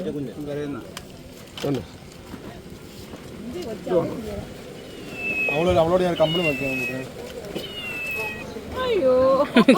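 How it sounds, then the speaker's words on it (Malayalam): A cat meows several times, its drawn-out, wavering calls rising over a steady background of people talking nearby. "കിടന്നുറങ്ങുന്ന പൂച്ച"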